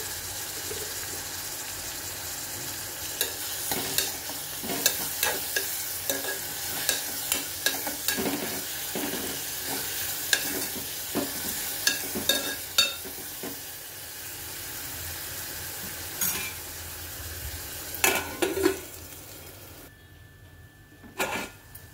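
Ginger garlic paste sizzles and fries in a pan with turmeric and salt, a steady close hiss broken by repeated scraping clicks of a spoon stirring against the metal.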